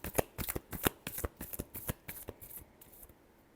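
Tarot cards being shuffled close by, a fast run of crisp riffling snaps and flutters that gradually thins out and fades at the end.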